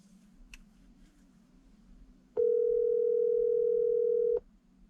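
An outgoing phone call tone plays through a CarPlay adapter in a car: one steady, loud, clean tone holds for about two seconds and then cuts off, with quiet cabin hum before and after.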